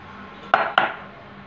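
A spoon gives two sharp clinks against a bowl as dal is mixed into flour and mustard oil, each ringing briefly over a quiet room with no speech.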